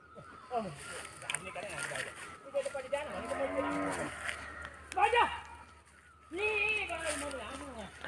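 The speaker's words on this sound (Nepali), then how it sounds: "मस्तले यहाँनिर जोत्दै हुन्छ गोरु चाहिँ" Oxen plough a wet village field for maize sowing after overnight rain, letting out low, drawn-out moos close by while people talk over them.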